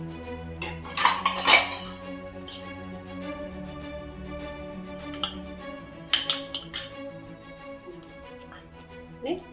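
A thickening mixture in a cooking pot is stirred, with clattering clinks of a metal spoon against the pot in two clusters over a low steady background hum.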